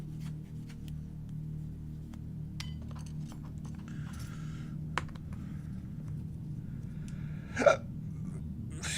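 A single hiccup pops out near the end, a short sharp vocal catch over a low steady room hum, preceded by faint scattered clicks and light rustling.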